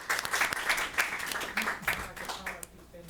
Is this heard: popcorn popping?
no